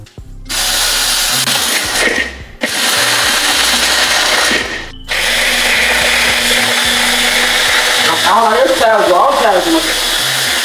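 Onions are chopped in an electric grinder at home, giving a loud, steady motor whir with a brief stop partway through. The whir ends in a longer gap before starting again, and a voice speaks over the later part.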